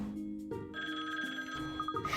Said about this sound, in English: That's the phone. I'll get it.